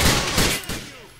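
Gunfire in the video game GTA IV, a short loud burst of rapid shots that quickly tails off.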